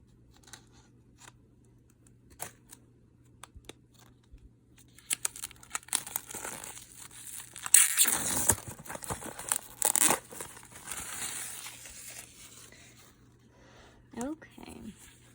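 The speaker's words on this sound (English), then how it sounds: "I'm gonna use scissors to open it." Scissors snip and tear through plastic wrap on a makeup unboxing package, a quiet scattering of ticks giving way to a louder burst of crinkling, ripping plastic, then lighter rustles and handling.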